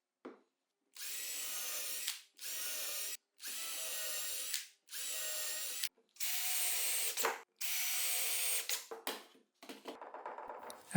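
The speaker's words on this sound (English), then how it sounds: "I've made some holes in the panel that will serve as a reference to drill the spindle mount." A drill bores holes in a spindle mount for a tilting router lift in a portable workshop, running in six or seven separate close bursts of one to two seconds each, with short pauses between them and a softer rattle at the end.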